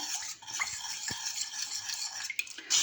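Milk and condensed milk being stirred together in a pot to dissolve them, a steady soft scraping and swishing of the spoon against the pot, close and continuous, with a couple of light clinks.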